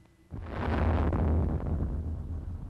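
A bomb blast test goes off beside an office wall sprayed with polyurea coating: a sudden loud deep boom that swells into a sustained roaring rumble and wind-like buffeting, heard alone.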